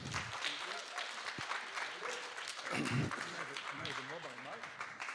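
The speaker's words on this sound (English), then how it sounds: "Big applause for Frank." An audience at the European Sustainability Congress 2024 applauds an urban planner taking the stage, a continuous wash of clapping heard under a person talking.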